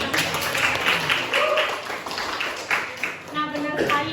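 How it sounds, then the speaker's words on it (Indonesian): A group claps in a classroom-style session, steady patter of hands under talk, moderately loud throughout. "Ada tepuk tangan juga dong buat"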